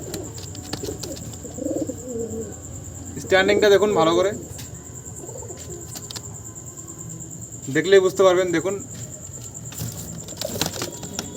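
Young pigeons at a loft coo in soft low bursts under a steady background hum and a high whine, while someone talks close by between two short louder bursts.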